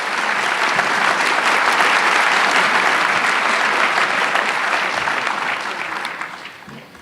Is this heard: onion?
no